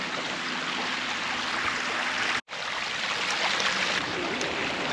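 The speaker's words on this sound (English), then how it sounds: "How good the water flows through here to feed the fields." Water rushes steadily through an irrigation channel feeding fields near Taliouine, Morocco, a dense, continuous nearby flow broken by one brief dropout midway.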